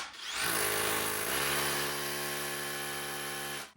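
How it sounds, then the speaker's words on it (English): A hammer drill bores into a wall with a steady, loud grinding whine that holds for several seconds before cutting off. "Then we use my hammer drill."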